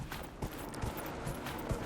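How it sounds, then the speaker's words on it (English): A horse's hooves clip-clop at a steady trot in Dragon Age Inquisition on Xbox One X, with soft, evenly spaced thuds over a low background bed. "Got ourselves a horse, people."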